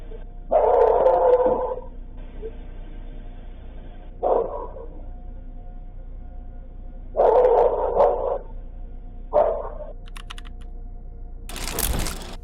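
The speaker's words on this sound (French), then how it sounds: "Vers 4h17 du matin, on entend les aboiements de Murphy et le chien de Kaylee qui résonnent dans tout le quartier." Dogs bark at night across a residential neighborhood around 4 a.m., about four separate bursts of barking with quiet gaps between them, heard from a moderate distance over a faint background hum.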